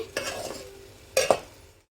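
Poha being mixed with lemon juice in a pan over a low flame, a soft sizzle under a few scraping stirs of a spoon, with two sharper scrapes near the end, close up and without speech.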